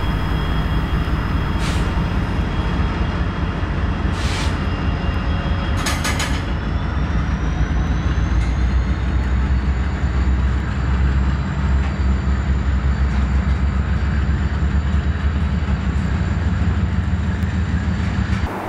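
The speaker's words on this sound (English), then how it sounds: "the annual Christmas Toys for Tots train that's sponsored by NS, Amtrak, and the Marine Corps Reserve" The annual Christmas Toys for Tots train, run by NS, Amtrak and the Marine Corps Reserve, rumbles past close by in a loud, steady roar of wheels and rail noise that holds for the whole stretch, with a brief high horn-like tone early on.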